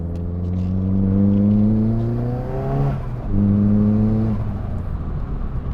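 A Nissan Pulsar GTi-R four-cylinder engine revving hard, a loud rising note climbing to a peak, a short break at a gear change, then a second strong pull that eases off into idle-like rumble.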